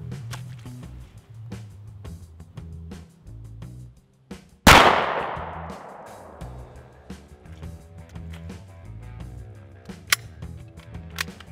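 A single loud, sharp 9mm gunshot fired into stacked cookbooks cracks out midway, its echo decaying over a couple of seconds, amid quieter outdoor clicks and handling noises.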